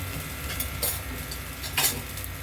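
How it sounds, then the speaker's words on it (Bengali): Ground garlic paste, turmeric, chili and coriander powders being stirred and fried in a pan for prawn and sweet pumpkin curry, a soft continuous sizzle with two brief scraping strokes of the spoon, close and fairly quiet. "দিয়ে ভালো করে মশলাটা কষিয়ে নিব"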